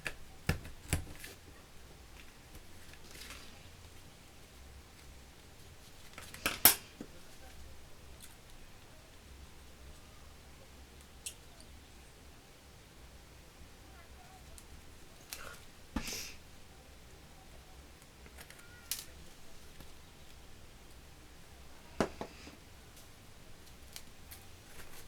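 Scissors trim excess paper from an origami shirt card, giving a few sparse, crisp snips spread across a long, very quiet stretch, close up and with no voices.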